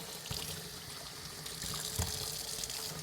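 Water runs steadily from a tap while a puppy is bathed, a constant close splashing hiss with faint bumps and no voices.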